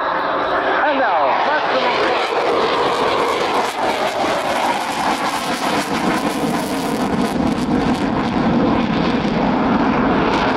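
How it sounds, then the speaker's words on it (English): A Eurofighter Typhoon of the Italian Flight Test Center makes a slow pass at the RIAT 2014 airshow, its jet engines giving a loud, continuous roar with an announcer talking over it. "Slow flies for the Typhoon of the Italian Flight Test Center."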